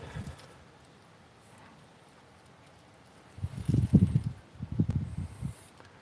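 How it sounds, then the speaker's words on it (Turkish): Outdoor wind buffets a microphone during a live stream in nature, coming as low, rumbling gusts after a quiet start, two strong bursts in close succession. "Biraz rüzgarlı geçti"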